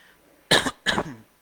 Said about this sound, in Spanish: Perdón, tengo un poco de tos.